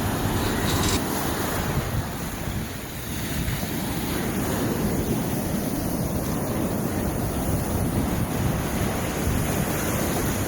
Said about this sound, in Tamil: அவ்வளோ பெரிய அலையா அடிக்குது